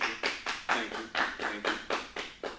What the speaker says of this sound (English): The scattered clap.